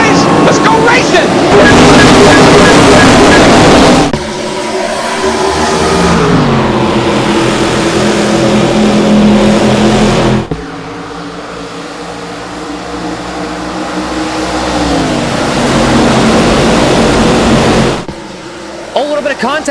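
Field of NASCAR stock cars roaring off at the green flag at the Bass Pro Shops MBNA 500, a loud sustained engine drone rising in pitch with shifting tones, under an excited commentator's voice.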